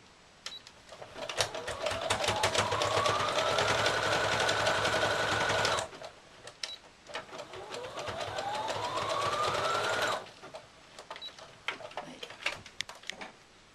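A domestic sewing machine running a zigzag stitch on a Christmas Santa cushion, two sustained bursts of rapid, even motor whirring and needle ticking, loud and close, with a short pause between runs and light handling clicks afterward.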